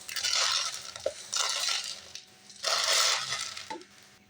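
Dried peas rattle and shake inside a kitchen vessel in several bursts of dry, gritty clatter, with a few sharper knocks between them, close and fairly loud, with no talking.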